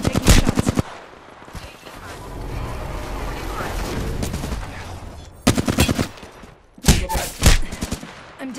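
Apex Legends gunfire rattles in rapid automatic bursts, loud and close, with an opening volley, a rumbling middle stretch and two more quick strings of shots near the end.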